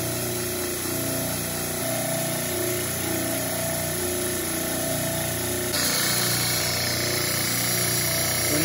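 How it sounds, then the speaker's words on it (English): A horizontal belt sander shapes an acoustic guitar neck, giving a steady, loud machine drone with a continuous sanding hiss that brightens partway through as the wood meets the belt. "you can use the end of the horizontal belt sander and just trying to sand those down right to your line"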